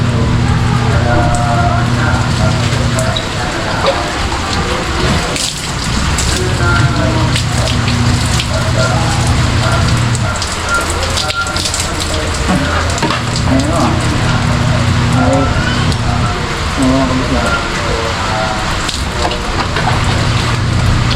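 Heavy typhoon rain pours down without a break, a loud, close, dense hiss of falling water over a steady low hum.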